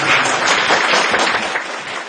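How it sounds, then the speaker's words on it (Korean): An audience applauds a company CEO at a Friday marketing seminar: dense, steady crowd clapping that fills the room for about two seconds and eases slightly toward the end. "불타는 금요일 우리 구이시 대표님께 큰 박수."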